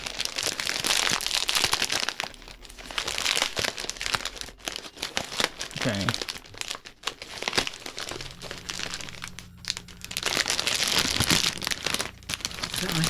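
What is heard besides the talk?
rustling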